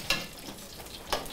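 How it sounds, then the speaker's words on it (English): Food frying in a frying pan, a steady low sizzle running throughout with two sharper bursts of crackle near the start and end, heard alone at moderate level. "Let's get that frying pan out."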